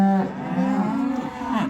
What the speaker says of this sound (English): Going to turn out some cattle this morning.